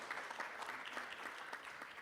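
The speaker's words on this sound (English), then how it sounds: "Can we have a big round of applause for all of us here today?" Faint, distant applause from the audience at the Indonesia Africa Forum 2024, a steady soft patter of many hands continuing evenly throughout.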